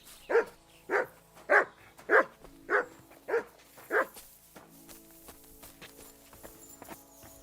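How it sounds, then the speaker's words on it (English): A dog in the video game Kingdom Come: Deliverance II barks seven times at an even, quick pace. The barks are close and punchy, then fade into a quiet ambient background. "Good dog, Matt."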